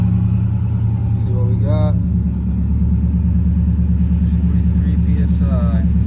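A Mazda RX-8 engine runs at a steady, close idle with a deep, even rumble throughout, while people talk over it.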